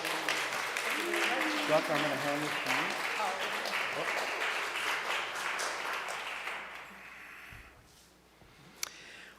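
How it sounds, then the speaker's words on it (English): Congregational applause at a Sunday church service welcoming new members, a steady wash of many hands clapping that fades after several seconds, with someone speaking over it. "Yes, applause."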